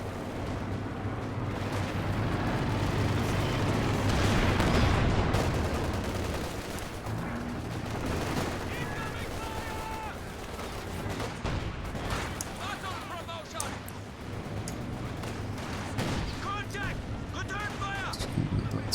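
Bursts of MG42 machine gun fire in a World War II strategy video game, with repeated rapid rattles, grenade blasts and other battle noise, heard under a commentator's continuous talk.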